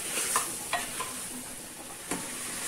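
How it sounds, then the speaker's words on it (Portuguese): A seasoning of bay leaves and vinegar sautéing in a pan, a steady close sizzle with a few light clicks of stirring, and no talking. "Vou deixar esse tempero refogando."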